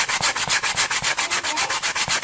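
Sandpaper rubs by hand over a small Valentine's bunny craft piece in quick, steady back-and-forth strokes, a loud rhythmic scratchy swish repeating about every fifth of a second, alone and near.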